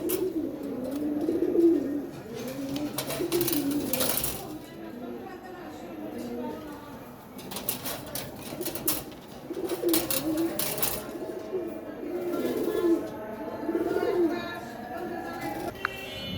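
Pigeons for sale coo repeatedly in soft, throaty bursts close by, with someone talking over them at intervals.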